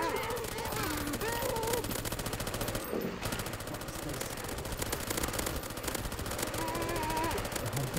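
Rapid, continuous gunfire from shotguns and other weapons in a Counter-Strike: Source zombie escape match, loud and dense, with dozens of overlapping shots throughout.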